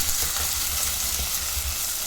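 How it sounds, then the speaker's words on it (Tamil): Loud, continuous sizzling of chopped shallots frying in a pan for a country chicken curry, close up, with faint stirring sounds and no voices. "பொடியாக நறுக்கி வச்சுருக்கிற ஒரு 150 கிராம் சின்ன வெங்காயத்தை அதில் சேர்த்து நல்லா வதக்கி விட்டுக்கலாம்"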